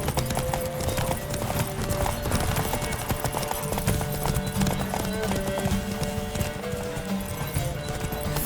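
Roach, Geralt's horse in The Witcher 3: Wild Hunt, galloping in a steady rapid clip-clop of hooves under a game soundtrack with sustained tones, loud and close, with a brief whinny.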